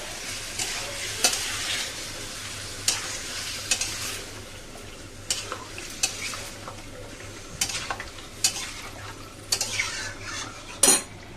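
Ginger and garlic frying with onions in a pan, a constant sizzle broken by repeated sharp clinks and scrapes of a spoon stirring against the metal, close and loud.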